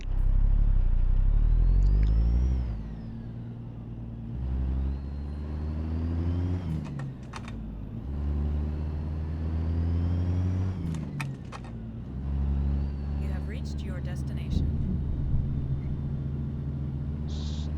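Kenworth K100E truck diesel engine in American Truck Simulator, rumbling and revving in repeated bursts that sag and die out as it stalls, with several separate rises and drops and clicks in between.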